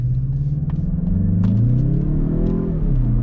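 A 2021 Mazda CX-30 accelerates hard up a canyon road at about 7,000 feet, its engine note rising steadily in pitch as it revs, loud and close from inside the cabin.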